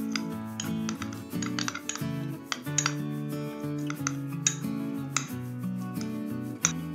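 Light, repeated clinks and scraping of a spoon against a bowl as orange peel powder is stirred into raw milk, irregular taps over soft background music.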